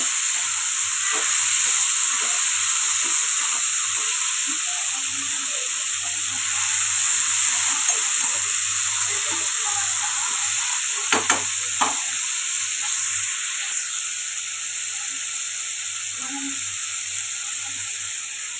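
Onions and tomatoes fry in oil in a pan for paneer curry, giving a steady loud sizzle and hiss throughout, with a few faint clinks of stirring near the middle and no talk.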